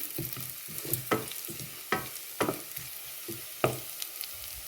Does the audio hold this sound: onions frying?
yes